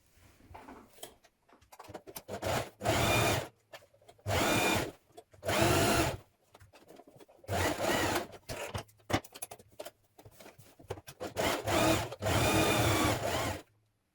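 A sewing machine runs down a dress seam in repeated stop-start bursts of close, steady whirring, with brief pauses and small handling noises between runs.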